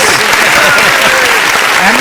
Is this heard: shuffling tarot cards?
no